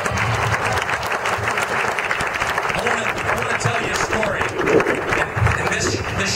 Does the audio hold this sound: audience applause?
yes